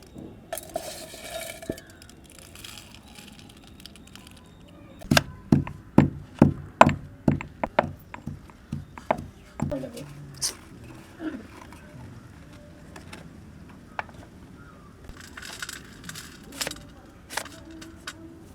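Coriander, cumin, pepper and other spices are pounded into powder, a run of sharp, rhythmic thuds at close range that comes in a burst midway and trails off, with quieter handling noise around it.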